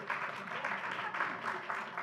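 Audience members at a county commissioners' meeting applaud in the chamber, a short, soft, steady patter of clapping that holds evenly for about two seconds with a murmur of voices beneath.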